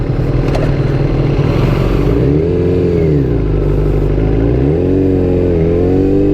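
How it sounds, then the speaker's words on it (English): A 1997 Kawasaki Ninja ZX7R with a carbureted engine and full exhaust drones loudly and continuously while being ridden, its revs rising and falling in smooth swells throughout. "I just love how this thing sounds though. That's one perk of having carburetors"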